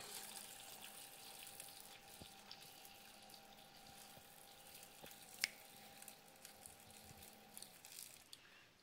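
Hot water at 208 degrees pours from a water dispenser in a quiet, thin trickle that runs steadily for several seconds, with a faint tonal hum and a few small clicks and drips near the end.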